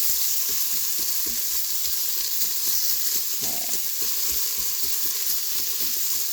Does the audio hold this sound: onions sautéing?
yes